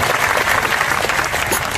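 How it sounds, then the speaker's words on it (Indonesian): An audience at a religious talk claps together for a child, a short burst of steady, fairly close applause filling the whole moment without a break. "tepuk tangan untuk anak kita"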